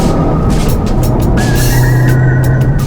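A Honda Civic Type R is driven on a bumpy road, its engine and quiet exhaust forming a loud, steady drone with road and tire noise. A rising whine enters partway through, and nobody speaks.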